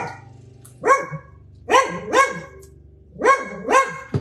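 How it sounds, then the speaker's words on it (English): A dog barks indoors in four loud, separate barks that come in two pairs, with short pauses between them and no voices. "and then there goes the dog."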